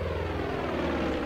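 Propeller airplane flying overhead in the video game Far Cry 5, a steady droning engine hum with a low throbbing rumble that holds at a constant, fairly loud level throughout.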